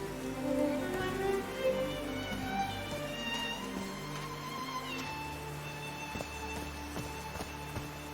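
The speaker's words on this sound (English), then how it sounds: "These drops of rain are so refreshing." Rain falls in the video game Call of the Sea as a soft, steady patter. Sustained musical tones ring over it throughout, with no talking.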